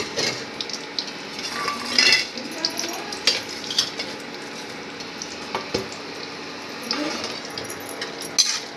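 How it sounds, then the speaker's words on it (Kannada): Cashews and chana dal frying in hot oil for mosaranna, a steady close sizzle with bursts of stirring and spoon scraping against the pan, no talk. "ಹಿಂಗೆ ಎಣ್ಣೆ ಫ್ರೈ ಮಾಡಬೇಕಿದ್ರೆ ಈ ಗೋಡಂಬಿ ಕಡಲೆಬೇಳೆ ಇದನ್ನು ಘಮ ಅಂತಿರತ್ತದು"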